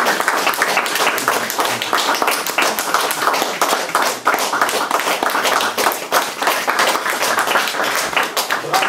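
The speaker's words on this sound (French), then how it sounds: "je crois que les applaudissements parlent" A lecture audience applauds steadily and loudly throughout, a dense wash of many hands clapping with no pause.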